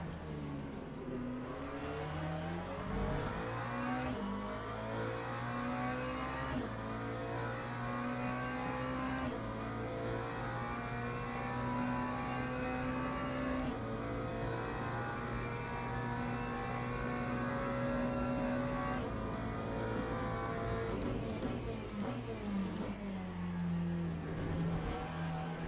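Race cars lapping in Le Mans Ultimate, engines droning and revving steadily throughout with shifting pitch as several cars run close together, loud and continuous, no talk.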